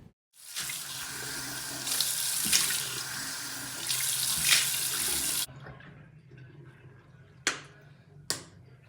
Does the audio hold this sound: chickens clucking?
no